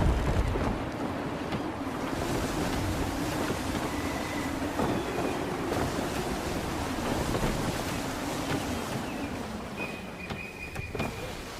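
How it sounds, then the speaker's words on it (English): Gusty wind and rolling sea swell in Assassin's Creed 3 at sea, a steady broadband roar with surging water lasting throughout, faint tonal whistles drifting in and out above it. "Gusty winds can be difficult to manage."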